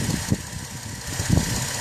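A combustion engine running on HHO water fuel idles smoothly and quietly, giving a steady low rumble with faint periodic pulses and no talking.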